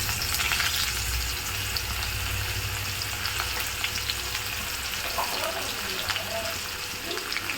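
Sliced onion sizzles steadily in hot oil with mustard seeds and fenugreek for a brinjal and raw mango sambar, a continuous close frying hiss with faint clinks near the end, under a quiet voice.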